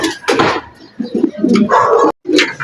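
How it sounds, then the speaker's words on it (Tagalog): A racing pigeon coos in short, close bursts after arriving at its loft, the soft throaty calls repeating with brief pauses between them. "Ito yung first bird na dumating natin mga boss."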